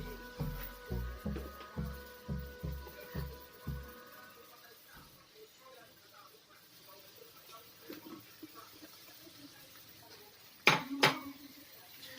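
Eggplant and squash being stirred in a cooking pot, a spoon clanking rhythmically against the pot about a dozen times before fading into quiet rustling, then a couple of sharp clinks near the end, close by.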